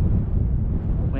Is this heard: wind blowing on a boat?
yes